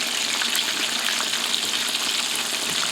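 Milanesa fries in a pan, a dense, constant sizzle with fine crackling pops, close up and steady throughout, with no voices.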